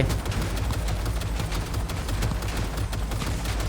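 Rapid bursts of gunfire from a firefight in the video game Cyberpunk 2077, dense and continuous across the whole stretch, loud and sustained with no voice over it.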